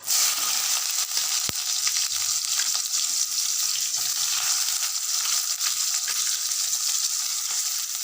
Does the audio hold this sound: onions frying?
yes